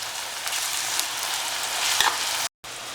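Whole green chillies frying in hot oil for a tomato chicken curry, a steady close sizzle that runs continuously with a light pop near the end and a brief dropout.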